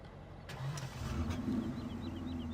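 A diesel truck engine starting in Farming Simulator 15: a short crank and catch settling into a steady low idling rumble, fairly quiet, with no talking.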